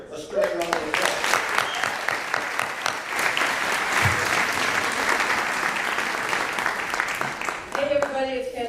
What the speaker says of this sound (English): Please give Lori a stirring round of applause.